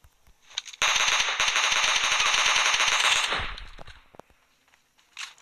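Sustained automatic gunfire in PUBG, a loud rapid burst of dense shots lasting about two and a half seconds, then fading, with a brief softer sound near the end.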